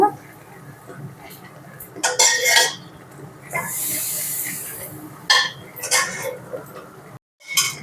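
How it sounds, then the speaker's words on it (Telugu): Mysore pak being stirred in a pan as oil is poured in, metal spoon scraping and clinking against the pan in bursts, with a loud hissing rush of oil in the middle. "ఇలానే ఆయిల్ వేసుకుంటూ బాగా మిక్స్ చేసుకుంటూ ఉండాలి ఆయిల్ పూర్తిగా అయిపోయిన దాకా"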